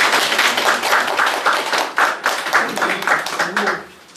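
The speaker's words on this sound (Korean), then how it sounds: "환영하는 박수를 다 주셨습니다" Welcoming applause from an audience at a Buddhist Diamond Sutra lecture hall: a close, lively burst of many hands clapping that rises, holds, then tapers off at the end, with a voice faintly mixed in.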